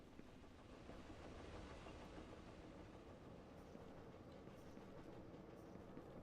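A long train rolls along in the video game Eden Crafters, a steady, dense rumble of wheels and cars running close and continuous with no pauses or talk.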